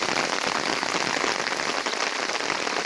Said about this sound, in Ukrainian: вийшла, щоб показати вам, який у нас пройшов дощ. І продовжує йти.